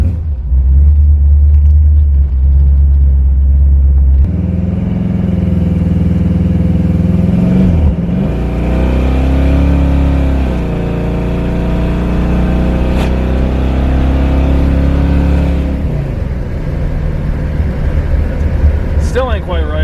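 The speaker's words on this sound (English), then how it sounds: "Nothing quite like driving an old G-body." An old G-body car with a small-block Chevy engine drives with a loud, steady low rumble that rises and falls as it revs, with a noisy, clattering exhaust throughout and no talk.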